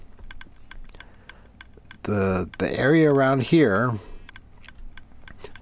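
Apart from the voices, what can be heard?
clicking of Minecraft observer blocks on clocks, video game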